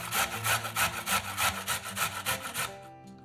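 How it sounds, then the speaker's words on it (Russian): A carrot is rubbed back and forth on a coarse grater in rhythmic, raspy scraping strokes, loud and close, ending abruptly with a short quiet tail. "Одну морковь трем на крупной терке."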